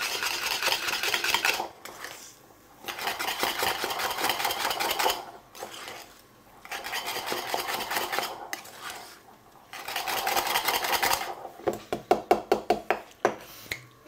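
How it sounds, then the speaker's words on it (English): Cottage pie mixture whisked in a bowl with steady metallic scraping and clinking in long bursts, separated by short pauses, ending with a run of sharper rhythmic taps, no talk. "Let's just whisk everything up."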